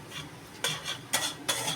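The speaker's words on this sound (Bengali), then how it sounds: "পুরো জিনিসটাকে একটু ভালোভাবে নাড়তে হবে।" A spoon scrapes and stirs savoury halwa in a pan, giving three or four short, close rasping strokes over a faint background hiss.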